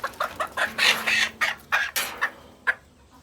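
Hens and a combative rooster cluck close by as they are packed for delivery with their legs tied with rope, making a rapid series of about a dozen sharp, loud clucks and squawks with no voices.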